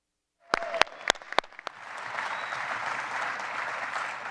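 Audience applause welcoming an executive chairman of a defense technology company to the stage at a special announcement event: a few sharp isolated claps first, then swelling into steady, sustained applause from a large crowd.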